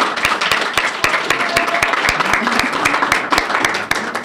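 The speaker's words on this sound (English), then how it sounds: "So can we get a round of applause for them?" Audience at a speech competition applauding educators, a full round of clapping with sharp individual claps standing out over a steady roar, fading near the end.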